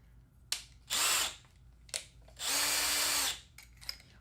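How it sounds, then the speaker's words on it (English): A handheld power drill enlarging an existing hole, with two separate whirring bursts, the second longer and steadier, separated by clicks and handling noises, close by with no talk. "I'm gonna just drill and try and make that hole a little bit bigger"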